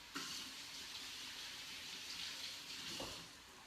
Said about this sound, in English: I'm going to wash my hands though